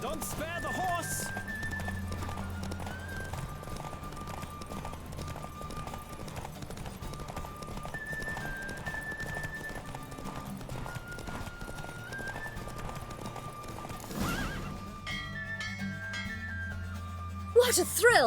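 Rhythmic hoofbeats of a galloping horse in a race in The Witcher 3: Wild Hunt, over layered game music and crowd noise, with a horse neighing briefly near the end.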